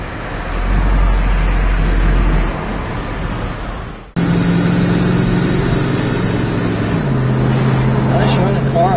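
A 1967 Plymouth Barracuda drives along with its engine giving a loud, steady drone heard from inside the car. There is a brief cut partway through, and the engine pitch drops later, as if it shifts gear.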